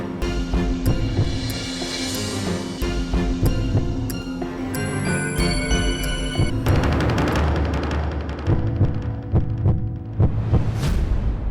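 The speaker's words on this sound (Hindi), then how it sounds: "ये मेरे दिल के धड़कन की आवाज है जो तेज होती जा रही है" A fast heartbeat sound effect plays as a rhythmic series of low, thudding throbs over layered tonal music, steady and quickening, with no talk.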